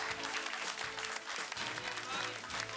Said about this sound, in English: It's an exciting time with lots of applause and smiles all around.